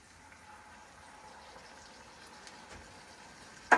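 Two cans of tomato sauce poured into a Dutch oven for goulash, a soft continuous wet slosh at low volume that ends in a sudden close clunk.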